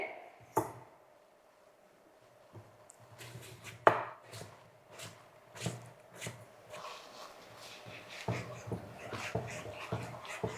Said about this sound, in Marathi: सगळ्यात पहिल्यांदा आपल्याला टॉमॅटो एकदम बारीक अशी कापून घ्यायचे